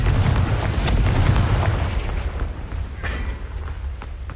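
A loud booming fire blast from the Confringo explosion spell in the video game Hogwarts Legacy, heavy and rumbling at first, then fading into a softer crackling tail with a few sharp pops, and no speech.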